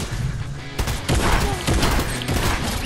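Rapid shotgun blasts in Fortnite, several loud, close booming shots in quick irregular succession, with brief game noise between them.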